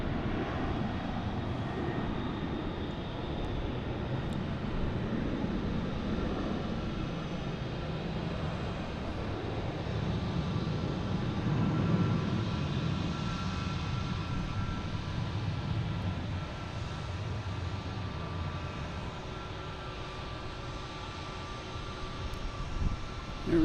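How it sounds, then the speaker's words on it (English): An American Airlines Boeing 737 takes off from Logan Airport in Boston, its engines producing a steady broad roar at moderate distance that swells slightly midway and holds, with no speech. "We have American Airlines taking off, heading to Charlotte on the A337. No, not an A. Boeing 737."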